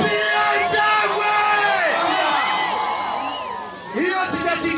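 A packed stadium crowd at a county governor's inauguration ceremony in Maralal roars with cheers, whoops and shouts, loud and sustained throughout. The din dips briefly, then surges back up near the end.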